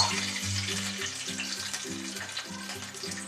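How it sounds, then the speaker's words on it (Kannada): A glass of water goes into a hot pan of oil and ajwain, giving a loud sizzling splutter followed by a steady bubbling hiss that settles to a quieter simmer with no voices. "ಈ ಗ್ಲಾಸ್ ಅಳತೆಯಲ್ಲಿ 1 ಲೋಟ ನೀರು ಹಾಕೊಳ್ಳಿ."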